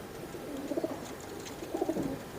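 A pet racing pigeon, a twelve-year-old champion flier now kept for breeding, coos in two soft, rolling bursts close by, with a faint background hum and no talking.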